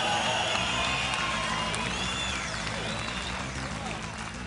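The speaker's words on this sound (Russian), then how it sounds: "Ваши аплодисменты!" Crowd applause and cheering at a heavyweight fight event, moderately loud and sustained, with scattered shouts and a few whistles rising over the clapping.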